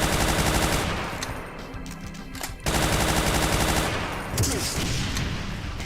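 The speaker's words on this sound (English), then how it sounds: "Pretty machine gun." Machine gun fire in the GZDoom shooter game, loud dense continuous bursts with a brief pause partway through, close and distorted, filling the whole stretch.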